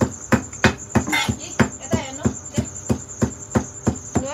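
Steady rhythmic pounding of spices in a mortar for Nepali gundruk chutney, about three loud close thuds per second, with a constant high insect-like hum running underneath.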